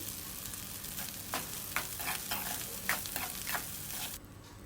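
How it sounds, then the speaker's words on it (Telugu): Egg tomato rice is stirred in a pan over a high gas flame, with steady frying sizzle and repeated spoon scrapes and clatters across the mix before the sound cuts off near the end. "గ్యాస్ హైలో పెట్టి బాగా కలపాలి"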